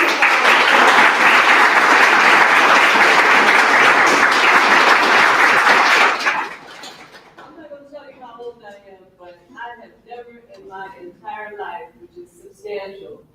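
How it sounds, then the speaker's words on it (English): An audience at a Southern California High Desert Black Chamber of Commerce mixer applauds loudly and steadily for about six seconds before it cuts off, and then someone speaks over the quiet room. "let's applaud that"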